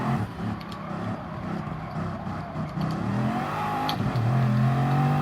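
Race car accelerating hard down a straightaway toward about 200 mph, a loud, continuous engine roar whose pitch climbs steadily through the clip with a brief shift near the end, sounding close to the car.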